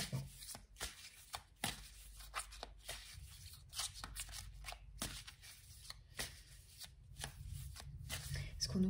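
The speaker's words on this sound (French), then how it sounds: "je vais prendre une deuxième carte de cet oracle maintenant" Oracle cards riffled and shuffled by hand in a run of quick papery flutters and snaps, ending with a card drawn from the deck, close and fairly quiet with a faint voice now and then.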